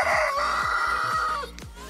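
Chickens on a small home flock, including a little black hen, with a loud, close crowing-like call held for nearly two seconds over a busy background of fowl sounds, no talking.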